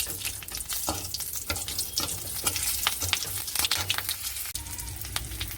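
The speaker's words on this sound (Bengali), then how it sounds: "ওই কড়াতেই তেল দিয়ে দিচ্ছি। কালো জিরে, কাঁচা লঙ্কা ফোড়ন দিয়ে দিলাম।" Nigella seeds and green chilies tempering in hot oil in a kadai, a loud continuous sizzle and crackle with stirring scrapes, close and without talk.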